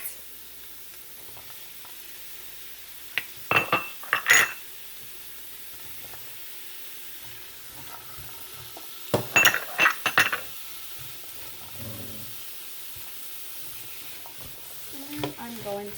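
Diced carrots stirred into a pot of lentil, potato and spinach soup, a low background sizzle with two short bursts of spoon clinks and scraping against the pot.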